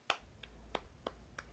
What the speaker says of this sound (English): the medium speed clap.